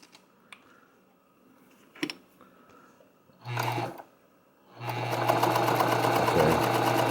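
A Pfaff 230 sewing machine stitching leather starts with a short burst, pauses, then runs in a steady loud whirring stretch with rapid needle clatter, preceded by faint clicks and handling noises.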